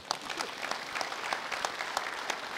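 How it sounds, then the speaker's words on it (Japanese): An audience at a political talk event in Niigata claps for the producer, a brief burst of many hands clapping at close range with no voices over it. "ちょっと制作者に拍手してください"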